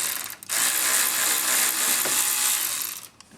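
Steady ratcheting whir of a tool backing out a screw on a Chevrolet Impala instrument cluster, a continuous close mechanical clicking that runs for about three seconds with no talking.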